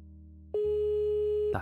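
In the video game Cube Escape: Case 23, a telephone plays a single steady electronic call tone for about a second after a click, alone over a low background hum.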